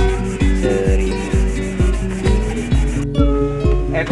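Sandpaper of 500 and 1000 grit is rubbed by hand over a cracked car brake light lens, making close, loud, steady back-and-forth strokes in an even rhythm with no talk.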